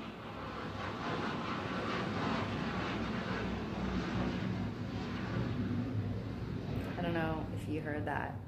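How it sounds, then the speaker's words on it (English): A jet plane flies past outside a window, a loud, steady broadband roar that holds throughout and thins slightly near the end. "planes go by, like jets go by my window"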